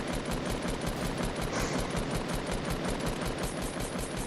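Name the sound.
gunfire shooting at stairs in a video game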